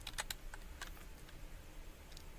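Keys on a computer keyboard are tapped in a quick, irregular run of soft clicks, close and fairly quiet, with no voices.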